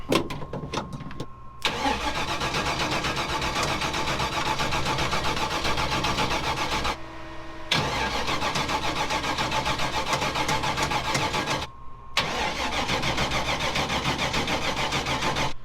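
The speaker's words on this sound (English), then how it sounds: "Put the jump box on it, and then hopefully then it'll fire up." A car engine cranks steadily while powered from a jump box, a continuous loud churning in three long bursts separated by brief pauses, without catching.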